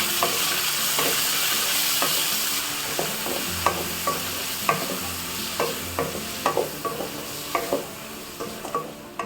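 Small and big onions sauté in a pan: a steady close sizzle carries a run of sharp, rhythmic spatula scrapes that grow more frequent toward the end, with no voices.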